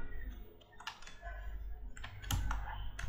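Fingers type a query on a computer keyboard in quick, irregular bursts of soft clicks, close and quiet, with one louder key strike near the end.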